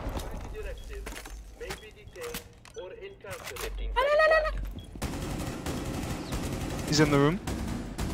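Bursts of gunfire in the Rainbow Six Siege video game, sharp repeated shots scattered across the clip and mixed with lively voices talking over them, with a louder stretch of firing toward the end.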